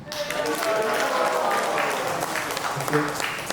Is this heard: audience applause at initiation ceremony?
yes